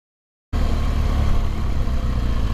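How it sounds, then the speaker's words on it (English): A Triumph Tiger 900 motorcycle engine starts up abruptly after a moment of silence, then idles loudly with a steady, throbbing low rumble. "the Triumph has got it just for the sound of that motor and its sheer peppiness"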